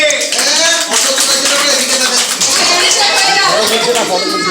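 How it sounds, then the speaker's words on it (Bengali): Audience clapping at a children's medal ceremony, a dense steady patter of many hands lasting throughout, with children's and adults' voices talking over it. "হাততালি জোরে।"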